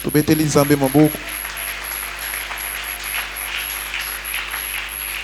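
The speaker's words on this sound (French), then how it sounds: "Acclamez cette parole." A church congregation applauds steadily after a French sermon, with clapping spread across the room; someone speaks briefly at the start before the applause carries on alone.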